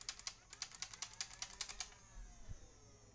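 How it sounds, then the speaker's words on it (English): A Nerf Stryfe blaster's rev trigger clicks about a dozen times in a quick, even run, each click crisp and close, before the run stops and only a soft thump follows. "I feel like this is a very clicky and responsive rev trigger"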